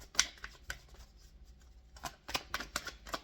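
Romance Angels oracle cards shuffled by hand in a quiet room, a few bursts of crisp riffling snaps early on, a pause, then several more quick flicks toward the end.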